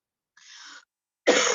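A faint breathy cough is followed by a louder, sharper cough, both close and isolated against silence.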